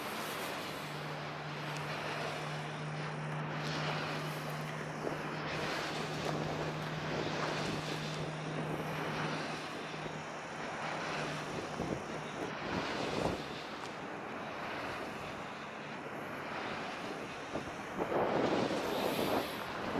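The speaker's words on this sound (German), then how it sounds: "Ja, und heute ist mal richtig gut Wind hier." Strong storm wind gusting across an open wind farm during storm Eugen, with Vestas V150 and Enercon E-126 turbines nearby; a steady roar of wind buffeting the microphone, with a faint low hum beneath and stronger gusts near the end.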